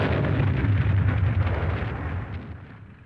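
Artillery fire explosions from the Battle of the Somme, a loud, deep booming rumble that rolls continuously before slowly fading toward the end, with no voices.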